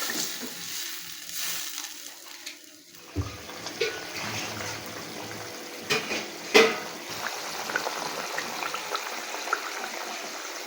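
Fish curry broth with potatoes and spices bubbles at a boil in a pot, a steady soft seething with scattered pops and louder splashes, close up and without talk.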